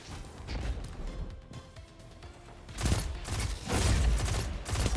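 Pulse rifle gunfire in a first-person shooter, a dense stream of rapid bursts that swells louder in the second half, mixed with other game effects and explosions, with no talking.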